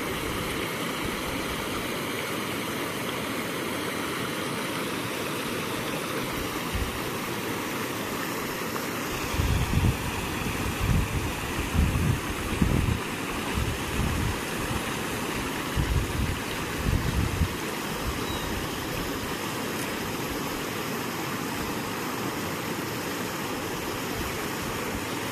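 Water pours into a bamboo fish trap in a village stream, a constant rushing flow close by, with a cluster of low dull knocks and splashes through the middle stretch.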